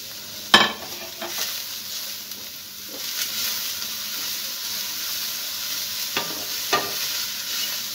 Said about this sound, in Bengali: গাজর, বিনসগুলো একটু সামান্য নাড়ানাড়ি নেড়ে একটু সামান্য ভাজা ভাজা করে নিয়েছি।